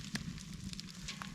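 A campfire burns steadily beneath a Dutch oven of water already at a boil for cooking lobster, giving a close, continuous crackling hiss with occasional sharper pops.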